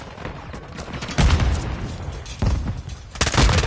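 Grenade blast and gunfire in the shooter game Modern Warfare: a steady crackle of shots is punctuated by three loud booming bursts, near and forceful, with no talk over them.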